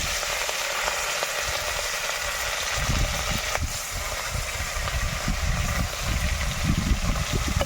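Small fish fry in hot oil in a wok over an outdoor fire on a windy day, giving a steady loud sizzle and crackle that grows busier partway through, with no talking.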